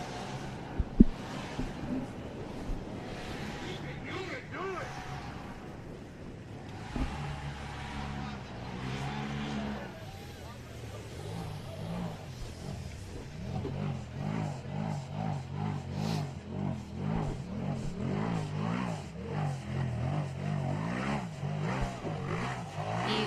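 A side-by-side off-road vehicle racing up the Little Blue hill climb course, its engine revving and surging under a commentator's voice, the drone fluctuating in pitch as the machine accelerates over the terrain.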